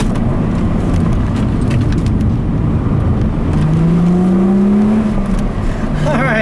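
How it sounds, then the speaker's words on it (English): A 2005 Chrysler Crossfire sports car engine drones steadily while driving, with a rising whine as it accelerates near the end, loud and continuous. "So I'm going to drive this car around for a while longer here"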